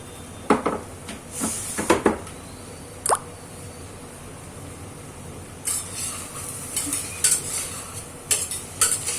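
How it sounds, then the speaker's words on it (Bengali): A spoon stirs and scrapes spices frying in a pan, giving scattered sharp clinks and scraping strokes over a faint background sizzle, with denser clatter toward the end. "সব মশলার সাথে একবার ভালো করে কষিয়ে নেব পুরো জিনিসটা।"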